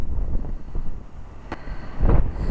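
Storm wind gusting on Knightstone Island at Weston-super-Mare during Storm Jude, rumbling and buffeting the microphone in uneven low surges, with a stronger gust near the end.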